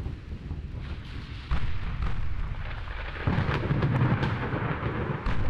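Warship main guns firing during a naval battle in the game Ultimate Admiral Dreadnoughts, with a German 1920s fleet: deep booming blasts and rumbling over continuous low battle noise, two heavier thuds rising partway through.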